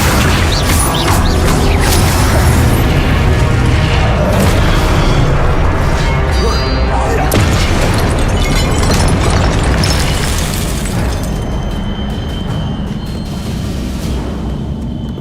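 Confringo spell blasts boom in Hogwarts Legacy, loud dense explosions and bursting crashes rolling continuously before easing off toward the end.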